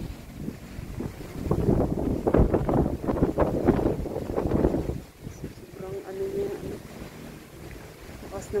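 Strong wind gusts roar into the microphone outdoors in the aftermath of a typhoon, a steady rushing buffet that eases after several seconds while a person talks faintly beneath.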